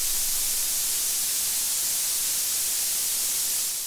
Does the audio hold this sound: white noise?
yes